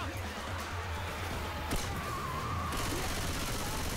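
Gunfire with explosive ammunition in the Left 4 Dead 2 video game, dense rapid bursts of shots and booms filling the clip under a loud, busy game soundscape with a sharp crack near the middle.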